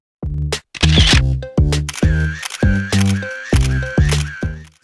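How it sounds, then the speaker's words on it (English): Camera shutter sound effect fires in a rapid run of about nine loud, close clicks with short mechanical whirs, closely spaced like continuous photo capture, with no talking. "I imported a video and a camera shutter sound effect"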